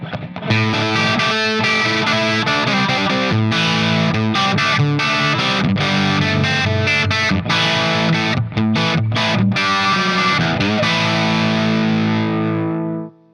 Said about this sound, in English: let's jump over to channel 2 and see how this amp breaks up on the distortion channel